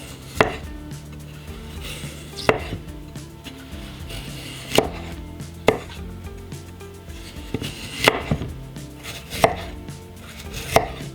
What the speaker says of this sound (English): I'm going to take the radish and I'm just going to cut it into slices.